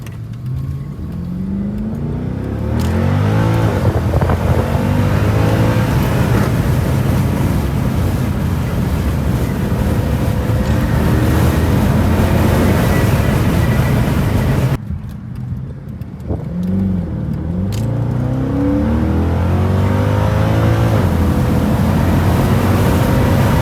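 A Mercedes C63 AMG running a Eurocharged tune roars loudly and steadily, with rising and falling revs and downshift blips, briefly dropping off around the middle before surging back, with no talking.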